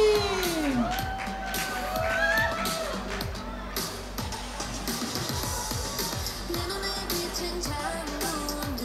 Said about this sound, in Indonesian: Yuk kita sambut dengan tepuk tangan yang meriah.